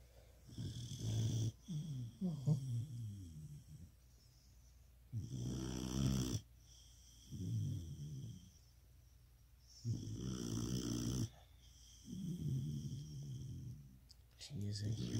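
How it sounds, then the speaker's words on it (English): A pitbull lying on her back with her mouth open snores in loud, rhythmic rasping bursts roughly every two to three seconds, each rumbling snore separated by quieter pauses, close up and without talk. "she just laid on her back and started snoring"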